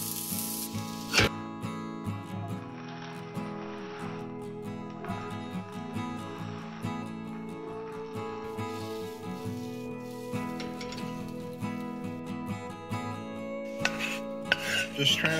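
Metal utensils scraping and clanking against a wok over a soft sizzle of frying vegetables, with scattered knocks as the vegetables are stirred and moved.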